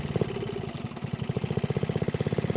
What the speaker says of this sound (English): Idle and it won't come off idle.